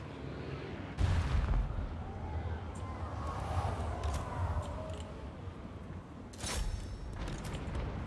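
Artillery fires in a Total War: Warhammer II battle, with sharp booms near one and six and a half seconds over a continuous rumbling din of distant battle.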